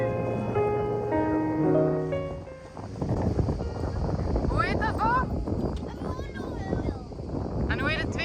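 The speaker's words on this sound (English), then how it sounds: "Here you can see how quickly the wind built up." Strong wind gusting around a boat at anchor during a violent supercell storm, a steady loud roar with rushing buffets throughout, joined by a voice in the first few seconds and some higher whistling streaks.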